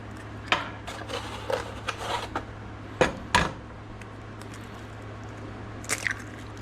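Eggs cracked one after another while making breakfast burritos, giving sharp, close cracks at a slow pace over a steady low hum, with faint kitchen clatter between them.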